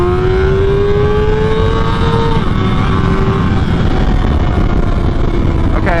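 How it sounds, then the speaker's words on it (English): A 2023 Kawasaki ZX-6R motorcycle is held in second gear at high RPM, its engine note rising steadily, easing, then climbing again, loud and close over continuous wind and road noise. "Let me get in second so I can get up and higher in RPM."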